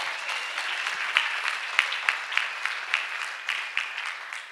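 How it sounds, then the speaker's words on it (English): A congregation at a church healing service applauds, a dense steady wash of clapping from many hands with a few sharper claps standing out, sustained for several seconds. "Can you clap for Master Jesus?"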